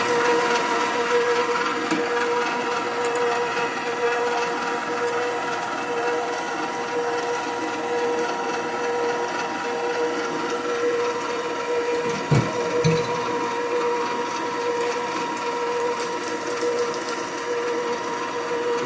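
An electric mixer whirs steadily, blending two eggs into cookie dough for peanut butter and sugar cookies, a constant close motor drone with a brief clunk near the end.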